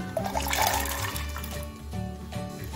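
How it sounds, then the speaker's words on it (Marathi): Chickpeas go into water in a pressure cooker, heard as a close, continuous watery pouring and splashing with faint clinks. "कुकरमध्ये मी पाणी टाकलेलं आहे। आता आपण हरभरे टाकून घेऊया।"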